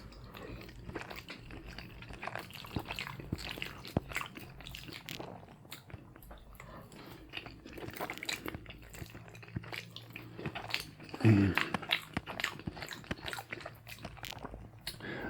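Soft, close chewing and biting on macaroni and cheese at a Thanksgiving dinner, quiet wet mouth sounds with occasional crunches and a brief clink of dishes around the eleventh second.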